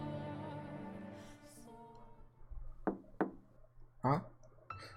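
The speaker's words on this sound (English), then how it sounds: "someone knocked on the door" A knock on a door in the video game The House in Fata Morgana sounds as a few sharp, distinct raps over a fading musical background, with no voices.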